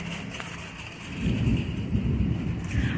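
Thunder rolls through a heavy rainstorm with strong wind, a deep rumble swelling after a moment and lingering over the constant hiss of rain falling nearby.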